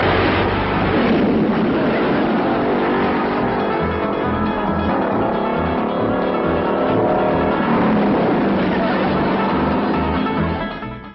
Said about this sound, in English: Now, Jethro, see if that'll start.